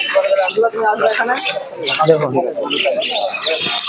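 Pigeons cooing and fluttering at a crowded outdoor pigeon market in Santipur, with faint chirps scattered under steady close-up talk from people nearby.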